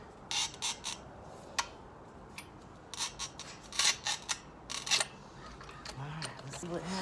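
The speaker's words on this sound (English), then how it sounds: "Score it right on that pencil mark." A ceramic tile is scored along a pencil mark for a rolling table top, a series of short, sharp scraping rasps in irregular strokes, close by, with a quiet voice in the background.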